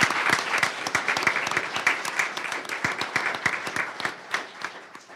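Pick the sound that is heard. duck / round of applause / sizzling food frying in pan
round of applause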